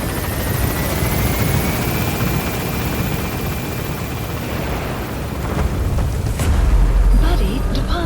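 Helicopter rotor thumping loudly and steadily as it lifts off in the video game Metal Gear Solid 5: The Phantom Pain, with a sudden deep low boom near the end.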